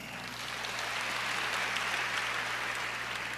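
A church congregation at a Christmas service claps together in a steady, dense wash of applause, moderately loud and filling the room, with no voices over it.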